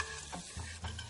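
Onions frying in a pan for a Malaysian chicken curry, stirred with a few soft scraping strokes over a faint, low sizzle.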